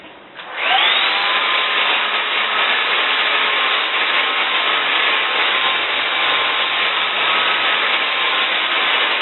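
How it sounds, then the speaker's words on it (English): Hair blow dryer on its highest heat setting, switching on with a rising whine and then holding a loud, steady airy roar close by for several seconds. "as I stay on the top of my hair, I'm just going to use the highest heat setting on this blow dryer"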